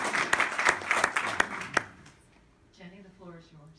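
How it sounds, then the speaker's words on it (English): An audience at a school district candidates' forum claps for a speaker, a brisk burst of applause lasting about two seconds before it stops and a single voice begins talking. "Round of applause for Bill."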